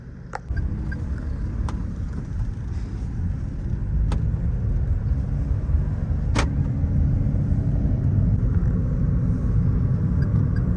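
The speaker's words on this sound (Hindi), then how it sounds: "ये गाड़ी चल रही है" A car drives along a road with a steady low engine and road rumble close up inside the cabin, broken by a few faint clicks; no one speaks.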